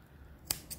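Small pocket-knife scissors snip at a cord, two quick, sharp metallic clicks close by against faint background hiss.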